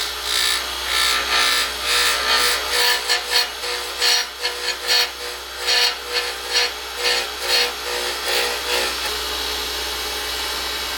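A roughing gouge cuts into a spinning, unstabilised pen blank on a wood lathe, producing a close, loud rasping scrape that pulses in repeated passes, steady at first, then choppy, with no talking.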